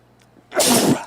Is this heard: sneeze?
yes